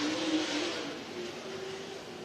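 Super Late Model race cars roll into line at a racetrack, a faint, distant engine drone with a low, even hum that barely shifts over a couple of seconds.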